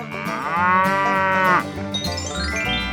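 A cow's long, loud moo rings out in a 3D animal video game, one sustained low call with musical game audio underneath.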